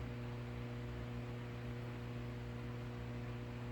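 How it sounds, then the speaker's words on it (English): A washing machine buzzes steadily in the background, a constant low hum with faint broadband noise, unchanging and unbroken throughout with no talk. "my washing machine is buzzing away"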